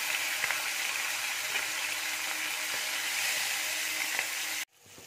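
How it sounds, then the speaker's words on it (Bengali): Hilsa fish heads and small cut pieces of the fish fry in hot oil in a pan, giving a steady, loud, close sizzle that stops abruptly near the end. "মাছের মাথাগুলো ভাজা হয়ে গেছে"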